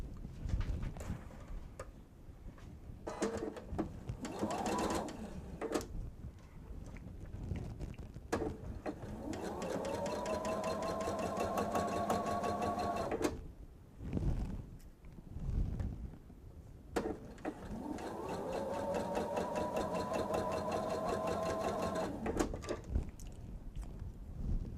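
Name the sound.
sewing machine stitching fabric for a bench pillow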